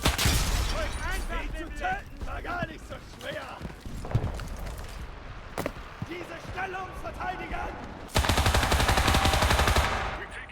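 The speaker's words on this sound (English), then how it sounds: "Let's give them machine guns." Machine gun fire in a World War II video game with an Axis squad ambushing enemies, dense rattling bursts layered with other battle noise, ending in a loud sustained stretch of automatic fire.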